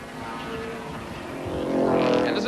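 John White's Monza sports sedan racing past at the 1981 Lakeside round, engine note rising and swelling louder as it approaches and passes, mixed with track noise and commentary-like voices.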